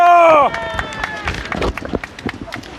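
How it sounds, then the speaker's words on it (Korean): A crowd at an outdoor press conference rally in Korea breaks into brisk, uneven clapping right after a loud announcement, with crowd noise and voices mixed in. "큰 박수로 맞아주십시오. 박수!"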